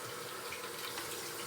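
Water runs steadily from a sink tap during surgical handwashing, a soft, even splashing stream heard alone.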